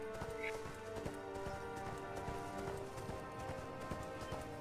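Horse hooves clip-clop at a steady riding pace in the online game ArcheAge, a continuous rhythmic trot over faint ambient game sound, fairly soft.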